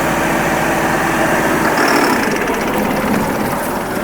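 A tractor engine running steadily at 1700 rpm, a loud, close, continuous diesel rumble with an even throb that holds throughout without pause or voices.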